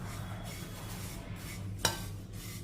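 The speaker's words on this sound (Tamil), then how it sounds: "இப்போ இந்த ஓட்ஸை வந்து இதில் போட்டுக்கிறோம். 3 நிமிஷத்துக்கு இந்த ஓட்ஸை வறுத்துக்கிடுவோம்." Oats dry-roasting in a kadai, a soft continuous rustling stir under a low hum, with one sharp metallic scrape or tap partway through.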